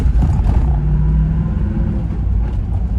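A Land Rover Discovery I's engine rumbles steadily through a smooth 5-speed manual gearbox, revving lightly between gears from inside the cabin with no grinding, a continuous low drone throughout.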